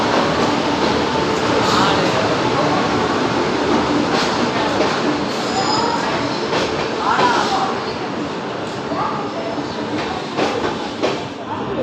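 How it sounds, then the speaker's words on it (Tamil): Kovai Express passenger train rolling into a station, a continuous loud rumble of wheels and carriages with faint clacking, steady throughout the whole stretch. "கோவை எக்ஸ்பிரஸ் வந்துருச்சுங்க."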